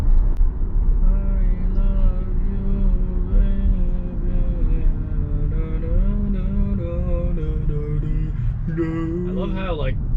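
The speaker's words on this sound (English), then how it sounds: "It's so quiet. All I hear is the road." Road noise fills the cabin of a 2022 Tesla Model Y on the highway, a steady low rumble with faint tonal whine, while a person talks throughout.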